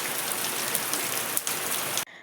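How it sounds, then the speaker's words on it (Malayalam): Heavy rain pours down in a dense, steady hiss of drops striking surfaces, close and constant, then cuts off abruptly at the end. "അപ്പോഴേക്കും നല്ലൊരു അടിപൊളി മഴ പെയ്തേ"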